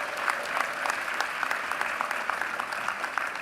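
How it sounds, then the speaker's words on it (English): A crowd at the 2023 Morehouse College commencement gives steady, even applause with many hands clapping together, sounding somewhat distant and continuous for the whole stretch. "Please give them a round of applause."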